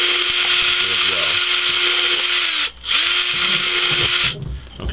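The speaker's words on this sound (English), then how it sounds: "make sure they're all really drilled well" Power drill boring holes through a plastic container, a loud steady high-pitched whine that runs for several seconds, briefly stops and restarts, then eases off near the end, with faint background sounds beneath.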